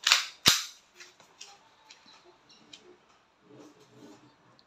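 WE Glock 17 Gen 5 airsoft pistol firing two sharp, loud, close snapping shots in quick succession, followed by faint small clicks and rattles.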